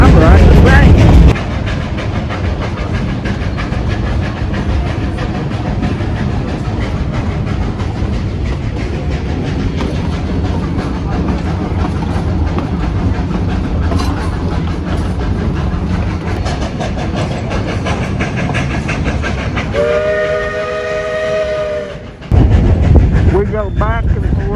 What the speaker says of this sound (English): I'm riding the train.